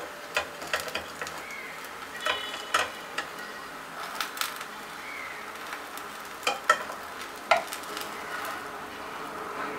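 A Bengali kheer-filled patishapta pancake fries in a pan while it is rolled up, giving a soft, steady sizzle with repeated light taps and scrapes from the utensil, quiet and close.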